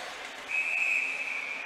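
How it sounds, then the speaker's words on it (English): A referee's whistle sounds at a college ice hockey game between NCAA teams including St. Scholastica, a single sustained shrill blast of about a second rising over steady arena crowd noise. "And now the whistle."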